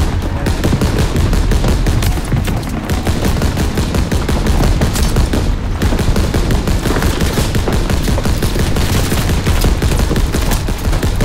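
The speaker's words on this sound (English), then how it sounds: "where is the machine gun coming from?" Sustained machine gun fire and scattered gunshots in a Call of Duty: WWII snow battle against Germans in winter uniforms, dense rapid bursts running nonstop and loud throughout.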